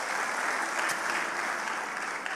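A church congregation breaks into dense, continuous applause, many hands clapping together at full volume throughout.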